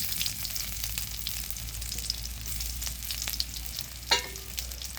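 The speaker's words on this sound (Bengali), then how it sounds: "এই যে পেঁয়াজ কুচি দিয়ে দিলাম।" Chopped onion frying in mustard oil in a pan, a steady loud sizzle with occasional stirring scrapes and one sharper clatter near the end.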